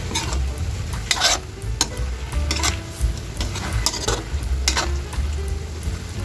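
Chicken tinola boiling in a pot while a spoon or ladle stirs it, with bubbling simmer underneath and repeated scraping clinks of utensil against the pot, close and fairly loud.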